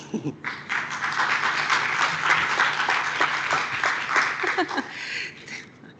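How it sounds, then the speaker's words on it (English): Conference audience applause at a climate justice law event, a lively round of clapping with a few chuckles mixed in that swells quickly and tapers off toward the end. "You can applaud if you want."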